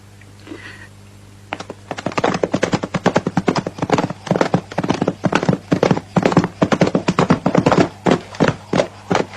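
Horse hooves clip-clop in a western film, a steady, loud, close run of sharp hoofbeats that starts after a brief faint whinny and keeps a brisk, even rhythm over a constant low hum.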